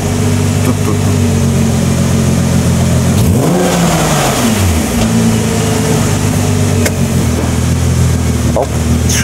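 A sports car engine, a rebuilt and previously stripped car, revs while in neutral, rising and falling through a clear pitch sweep over a steady loud idle. Voices talk faintly in the background.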